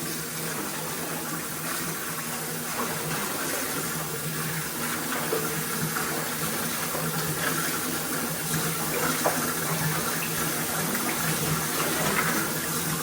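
Water swirls and sloshes steadily in a container as detergent is dissolved in it, a continuous broadband rush with faint splashing throughout, no voices.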